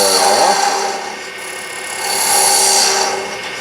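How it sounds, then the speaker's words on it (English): Wooden toothpick holder spinning on a woodturning lathe while a 1/4 inch detail gouge cuts the end, a close, loud, steady scraping whir that dips and swells as the tool pushes in. "Now we can come in with our 1/4 inch detail gouge and clean the end of that off."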